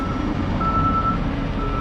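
A road truck spreading hot rubberized asphalt (ARAM membrane) sounds a steady reversing beep over a deep diesel engine rumble, loud and close, with no talk.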